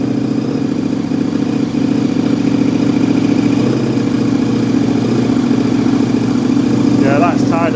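Motorcycle with a Racefit exhaust idling steadily and loudly close by, a deep continuous rumble, with voices talking over it.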